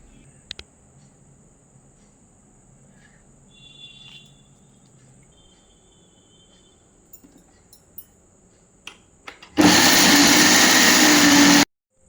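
A mixer grinder blends coriander chutney with tamarind, garlic and coconut. After a quiet stretch with small clicks and a faint hum, the motor starts abruptly and runs loud and steady for about two seconds.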